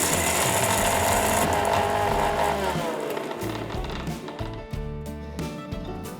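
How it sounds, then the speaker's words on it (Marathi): A kitchen mixer grinder dry-grinds roasted dal with spices into flour, running as a loud, harsh whirring roar whose pitch sags as the load settles, then rattles and clatters in choppy bursts as the motor slows. "आता हे आधी सुकंच फिरवून घेऊयात."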